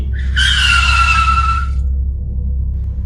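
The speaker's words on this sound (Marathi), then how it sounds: "रात्री दहाच्या सुमारास एक गाडी त्या दिशादर्शक दगडाजवळ येऊन थांबली" A car pulling up and braking to a stop at night on a roadside, a loud tyre squeal lasting about a second and a half over a steady low engine rumble that continues after the car halts, with no talk.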